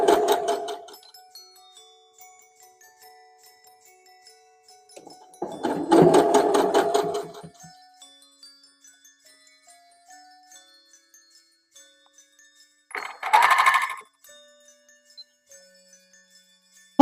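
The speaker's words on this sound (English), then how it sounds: "folding it under again, sewing a little bit, folding it under again" Home sewing machine stitching strips of scrap fabric for Christmas junk journal tags, in three short bursts: a long run, a pause, another run, then a brief final stitch.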